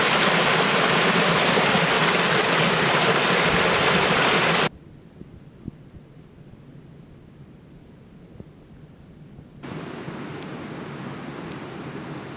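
A mountain creek on Mount Rainier rushes loudly as a steady broadband roar that drops away abruptly midway, leaving a quiet stretch before the flowing water returns at a softer level.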